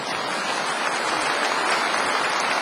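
Sustained audience applause fills a hall during a formal speech, a dense, steady wash of many hands clapping with no voices rising above it.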